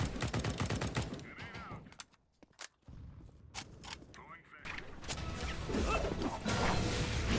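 Bursts of rapid gunfire in the shooter game CS:GO, loud and dense with short pauses, a brief quiet gap, then sustained firing resumes with game ambience.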